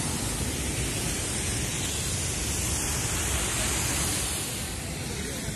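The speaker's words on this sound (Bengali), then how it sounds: "নাও আমরা এখন নাফাকম ঝর্ণায় এসেছি" The Nafakhum waterfall in Bandarban roars as a dense, unbroken rush of falling water, loud and close, with no other sounds standing out.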